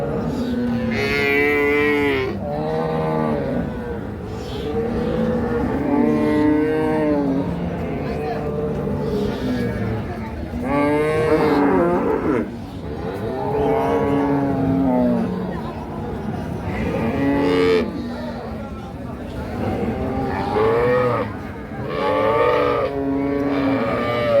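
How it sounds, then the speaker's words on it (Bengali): A crossbred Holstein Friesian dairy cow moos loudly several times at a cattle market in Narayanganj, long drawn-out calls rising over a murmur of people talking and chatter. "এটা কিন্তু ক্রস জাতের গাভি"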